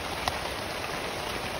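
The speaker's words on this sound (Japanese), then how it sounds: "雨がさっきよりも強くなってきた気がするのは気のせいでしょうか" Heavy rain drums steadily on a campsite tarp during a rainy-season solo walk-in camp, a dense continuous patter with no voices.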